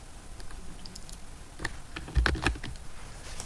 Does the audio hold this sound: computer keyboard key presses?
yes